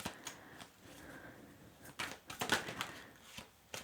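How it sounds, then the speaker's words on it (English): Tarot cards are shuffled by hand, giving faint, irregular riffles, soft slaps and taps in a quiet room. "let's keep shuffling for one last card"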